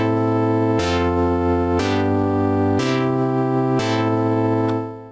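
Basic chord progression played on the default MIDI instrument preset in Studio One, four sustained chords changing roughly once a second with rich harmonic tones, steady and loud with no voices.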